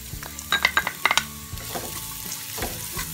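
Half a cup of chopped onion sizzling in roughly two spoons of oil in a pan, a close crackle punctuated by a quick run of metallic spoon clinks against the pan, no voices.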